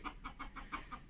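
A white rooster and his hens in a henhouse make a quick, regular series of about six soft clucks, faint and close, with little else around them.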